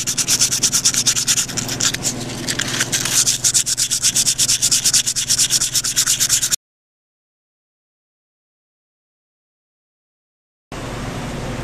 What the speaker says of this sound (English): I'm coming in here with some emery cloth and getting the remaining gasket out and shining up the housing